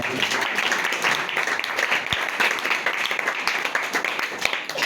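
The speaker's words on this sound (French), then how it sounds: "Acclamons pour la parole." A church congregation applauds together, a steady, dense wash of clapping from many hands that fills the room at close range and carries on without pause.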